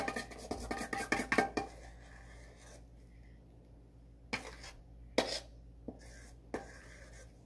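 A spoon working batter around a bowl, with a burst of quick scraping and clinking at first, then a quieter stretch with a few isolated taps and scrapes, close and soft with no talking.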